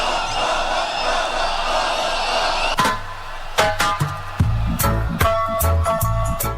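A political rally crowd cheers for Raila Odinga and Martha Karua in Nandi and Uasin Gishu counties, Kenya, first as a steady roar, then broken by sharp bursts of shouting and noise.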